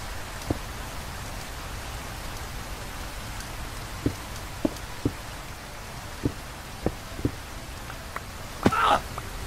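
Rain in Minecraft, a continuous soft hiss of falling rain with scattered sharp clicks and taps, steady and moderately quiet with no talk.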